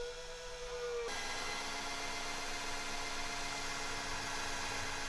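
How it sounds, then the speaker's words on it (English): A power drill bores a drainage hole through a plant pot, a steady grinding whir with a brief higher whine at the start before the cut settles into continuous rough, noisy drilling up close. "these drill bits make it very, very easy to just drill a simple hole"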